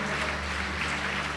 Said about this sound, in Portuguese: Pode aplaudir o Senhor Jesus e glorificá-lo.